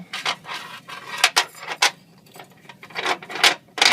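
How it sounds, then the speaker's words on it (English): Metal rattles and scrapes as a bolt is threaded through a hole in the frame while fitting a Class A tow hitch to a 2014 Mazda6, a string of short, uneven clinks close by. "Then we just thread the bolt through the big hole"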